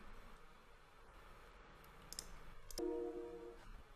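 A few quiet, sharp computer mouse clicks sound over faint room hiss while an installer is finished, with one brief double click near the end.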